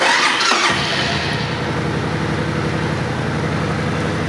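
A 2006 Suzuki Boulevard C90 fuel-injected motorcycle with 27,000 miles is started with the clutch pulled in. A brief cranking catch settles into a steady, close, low idle rumble with no talking.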